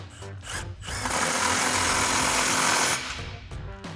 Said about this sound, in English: Same thing, impact and 15mm socket